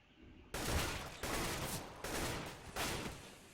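Four bursts of rapid gunfire from the game CS:GO, each a dense, loud volley lasting about half a second to a second, separated by brief gaps, with no voices.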